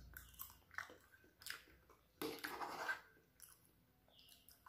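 Close, quiet bites and chewing while eating ketupat rice cake with Aceh fried noodles, a few separate crunchy mouthfuls with short pauses between them.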